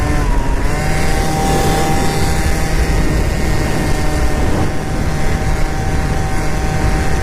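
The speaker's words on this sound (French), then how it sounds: "Ma pipe fait un petit drôle de bruit" Loud, continuous engine and exhaust drone from a scooter on a country road, its exhaust pipe making an odd noise, heavy rumble with steady wind buffeting close up throughout.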